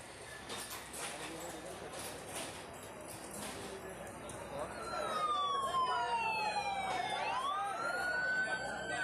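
Fire engines race to a cylinder-blast fire at shops in BKC, Mumbai. A wailing siren rises and falls as it sweeps in partway through, loud over the murmur of the street.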